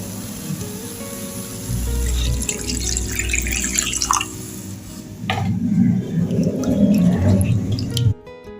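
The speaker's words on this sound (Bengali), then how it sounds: "এবার জল দিয়ে দেবো পরিমাণ মতো" Water is poured into a cooking pan of hot oil and turmeric, making a running splash and sizzle that swells toward the end and then cuts off abruptly.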